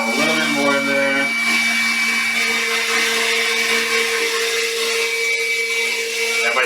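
KitchenAid stand mixer running on high speed, whisking a batch of homemade mayonnaise; a steady, loud motor whine with a constant pitch, joined at the start by a second tone that stops after about a second.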